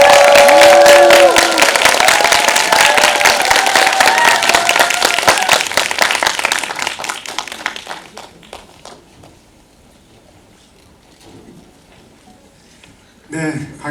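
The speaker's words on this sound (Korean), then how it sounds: "큰 박수로 강영철 감독님과 안재홍 배우가 하겠습니다" A cinema audience at a film screening Q&A applauds loudly to welcome the director and an actor, with a tone and talk over the clapping, which fades away to near silence before a brief burst of sound at the end.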